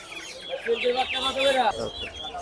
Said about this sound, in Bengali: টাইগার মুরগি এক জোড়া একটু হাতে নেন তো ভাই সাইজটা দেখি ভাই